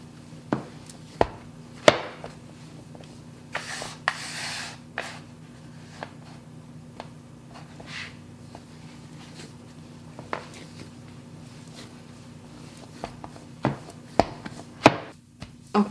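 Peppernut (Pfeffernüsse) cookie dough kneaded on a board: irregular soft thumps and presses, close by, with quiet pauses between them and no talk.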